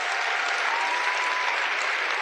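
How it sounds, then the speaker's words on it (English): Audience applause, a dense, even wash of many hands clapping at steady loudness from start to finish, with no voice over it. "Oh, you guys are going to clap after everyone."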